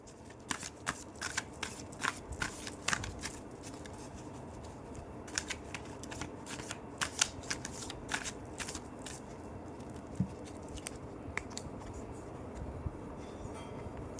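Tarot cards shuffled in a steady flurry of soft riffling and flicking, with sharper snaps scattered throughout, sounding close and continuous with no talking.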